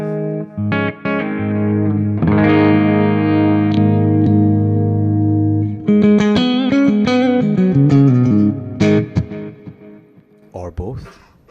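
Electric guitar played with a crunch tone through a Quad Cortex amp model, loud and driven, with ringing sustained chords followed by choppier rhythmic strums and a brief quieter tail at the end.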